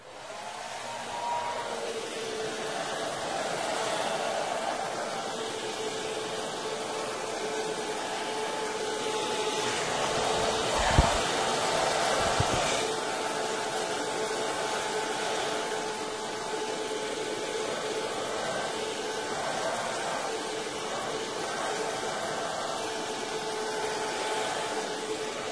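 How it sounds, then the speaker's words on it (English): A hair dryer runs continuously on its high setting with no heat, at a high, steady whine with a strong airy rush, and a couple of brief bumps come partway through. "I'm gonna have to figure out how to get a hair dryer with no heat in it"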